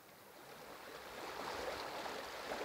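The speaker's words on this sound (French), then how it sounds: "et le son des vagues." Soft ocean waves wash in, a faint, gently swelling surf that grows slightly louder over a few seconds with no voices.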